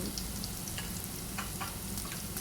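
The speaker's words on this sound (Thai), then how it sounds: "กะเพราหมูสับ จะผัดแบบแห้งๆนะคะกับไม่เติมน้ำ" Minced pork frying dry with holy basil, chilies and garlic in a hot pan with no water added, a steady close sizzle with soft scrapes and stirring clicks.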